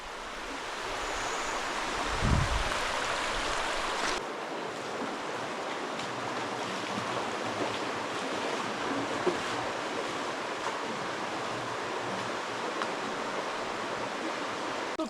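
A small river flowing through the narrow Holta canyon in Albania, a steady loud rush of water close by with a brief low thump early on, no voices.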